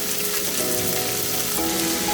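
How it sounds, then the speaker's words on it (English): Sliced tomatoes, chopped carrots and chopped capsicum sizzle with golden-brown onions in a pan for a spicy Kenyan wet-fry matumbo, a steady close frying hiss running alone throughout. "you're going to add your sliced tomatoes, my chopped carrots, then my chopped capsicum"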